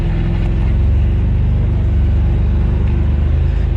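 A Can-Am Defender Limited HD10 UTV driving off-road, its engine a loud, steady low rumble that fills the whole stretch without talk.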